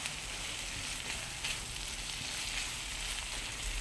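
Spinach with egg, tomato, onion and chile fries in a pan with a steady, even sizzle that runs throughout and is fairly faint.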